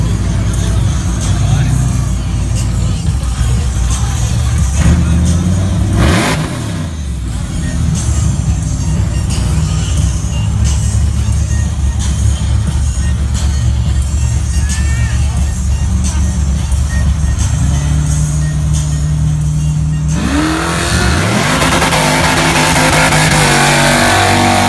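A Camaro does a burnout. Its engine holds at high revs for a long stretch, loud and close, with a brief dip in the middle and a fresh rising rev near the end.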